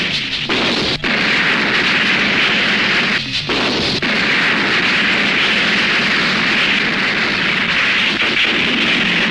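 Loud, continuous roaring blasts with dense rumbling noise throughout, punctuated by a couple of sharper booms, like heavy cannon fire in a Bangladeshi action movie battle.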